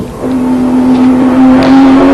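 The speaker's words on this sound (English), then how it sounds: "This is where the GTR is so fast coming out of this corner of the cutting." A 1991 Nissan Skyline GTR R32 race car accelerates out of a corner at the Bathurst circuit. The engine gives a loud, close, sustained note that climbs steadily in pitch.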